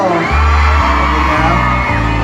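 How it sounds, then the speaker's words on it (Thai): A concert crowd at Centralworld screams and cheers loudly and continuously, a dense roar filling the space, while heavy low thuds of music or drums pulse underneath at a steady rhythm. "เอาขอเสียงกรี๊ดหน่อยแล้ว"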